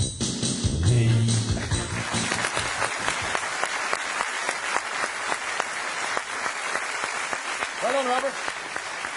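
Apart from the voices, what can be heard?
studio audience applause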